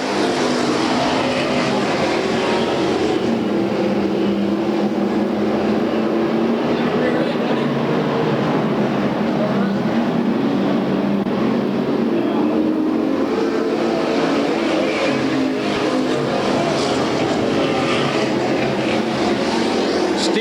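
Stock cars at the Budweiser Racing Series final point race in Bakersfield, California roar together as the pack takes the green flag, a loud sustained multi-engine drone under a commentator's voice.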